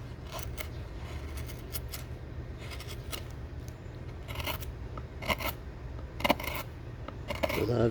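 A chisel carves into cottonwood bark, giving faint, close scraping and rasping strokes in irregular short bursts over a low background hum.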